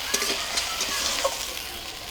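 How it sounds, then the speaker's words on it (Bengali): Cashew paste stir-frying in a pan, a steady close hiss of sizzling with small scraping ticks as it is stirred. "এইবারে আমি কাজু বাটাটা দিয়ে দেবো। দিয়ে একটু কষিয়ে নেব হালকা করে।"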